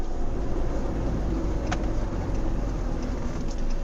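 A Fiat Doblo's engine runs at a steady idle, close and continuous, a low rumbling drone that stays even throughout with no talk over it.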